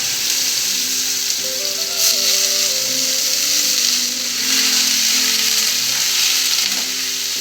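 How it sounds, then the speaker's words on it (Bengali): Watermelon rind drops into hot oil tempered with mustard seeds, radhuni and bay leaf, giving a steady, bright sizzling hiss under a continuous tonal background drone. "আমি এই তেলের মধ্যেই ফোড়ন দিয়ে দিচ্ছি সর্ষে, রাঁধুনি আর তেজপাতা। তরমুজগুলো দিয়ে দিচ্ছি।"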